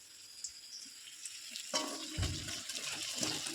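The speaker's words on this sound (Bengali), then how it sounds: "দেখো বন্ধুরা, একে একে সব কটাই আমি ভেজে নিচ্ছি।" Sandwiches frying in a pan, a soft sizzle that begins faintly and swells suddenly partway through with a low thump, then crackles steadily and close with no talk.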